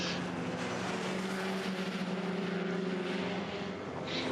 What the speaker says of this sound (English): Great shots of the Porsche curves there with the Audi coming through